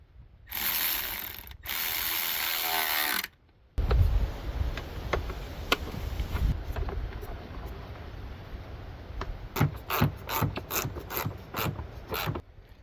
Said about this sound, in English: we'll grab something to tighten that up with, and we'll run these Phillips head screws down